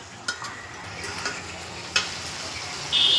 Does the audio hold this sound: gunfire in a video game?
no